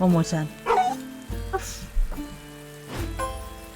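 A cartoon dog in a turn-based video game barks and yips several times over looping game music, while a person talks.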